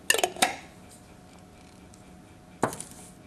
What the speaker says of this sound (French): Nous allons rapidement refermer le bocal avec le couvercle.